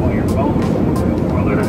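Steady engine roar fills the cabin of an airliner in flight, a broad continuous hum that stays constant, while voices can be heard over it.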